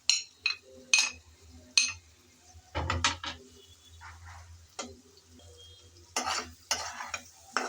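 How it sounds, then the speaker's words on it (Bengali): A spoon stirs fried potatoes with spices and tomato in a pan, producing separate scraping and clinking strokes with quiet pauses between them over a faint low sizzle, close and intermittent, without speech. "আলু দিয়ে আবারও নেড়ে চেড়ে কিছুক্ষণ কষিয়ে নেব"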